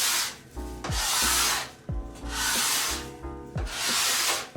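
A Demon scraper drags across a waxed snowboard in three long, loud, close strokes, each a harsh scraping rasp with brief gaps between passes.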